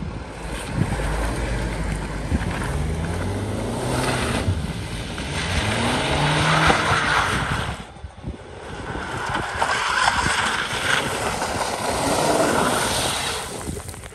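BMW 320 spinning out on snow, a steady broadband engine and tyre roar with rising and falling pitch sweeps, loud and close throughout, dipping briefly midway before surging again, with wind rushing over the microphone.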